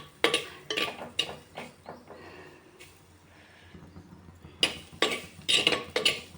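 Amaranth leaves are chopped for a stir-fry with a knife on a board, giving a series of sharp, close cutting knocks in uneven bursts, with a quieter stretch in the middle.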